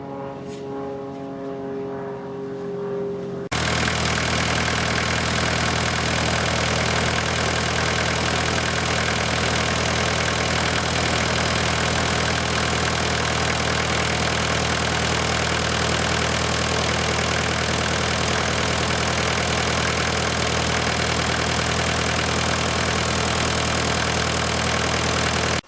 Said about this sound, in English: Right, the engine's warmed up.